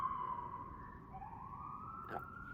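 A wailing siren rises and falls steadily at a distance, with a brief burst of other noise near the end.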